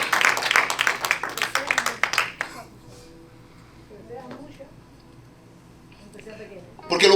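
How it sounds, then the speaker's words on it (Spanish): Congregation applause during a church service, dense clapping for about two and a half seconds that fades into quiet, with brief talk and a renewed burst at the end. "Dale un aplauso a Rey."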